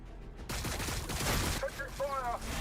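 Rapid bursts of automatic gunfire in a video game, a dense crackling fusillade that follows a brief quiet moment and continues loudly, with faint in-game voice callouts mixed in.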